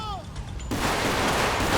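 Gunfire in a police shootout in GTA V: after a quieter stretch with a voice, dense loud shooting erupts and continues as a sustained harsh crackling barrage.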